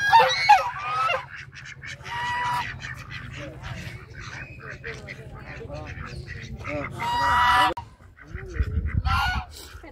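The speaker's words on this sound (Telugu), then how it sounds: "పెద్ద బాతులు ఉన్నాయి" Large ducks at a hill-station mini zoo honk loudly and repeatedly, harsh goose-like calls at close range over a low rumble, with people talking nearby.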